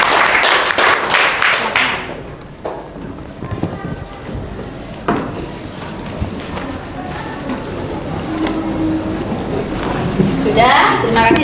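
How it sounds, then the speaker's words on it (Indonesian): A classroom group claps briefly after a student group's presentation; a short burst of applause opens, then subsides into room noise, scattered knocks and talk, with a second rise of clapping near the end. "Tepuk tangan untuk kelompok 2"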